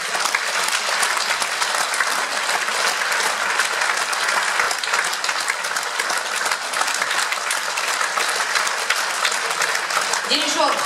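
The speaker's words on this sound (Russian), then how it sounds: "ваши аплодисменты" Audience applause at an accordion duo concert, a dense, loud and sustained ovation from a large hall crowd that continues unbroken throughout.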